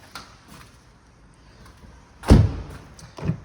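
A Cupra Formentor hybrid's rear car door thuds open with a solid clunk, followed by a softer knock a second later, against a quiet background.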